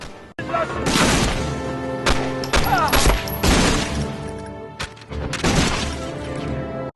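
Gunfire in the Medal of Honor Frontline video game: loud, repeated sharp shots and crashing impacts in irregular bursts, with game effects and background tones throughout.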